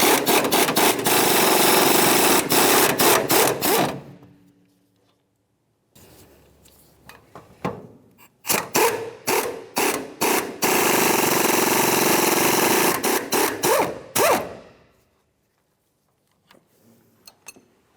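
An impact wrench hammers in loud rattling bursts while removing strut mounting nuts on a 2002–2005 Ford Explorer front shock and spring assembly, with pauses and short stuttering blips between runs, close up.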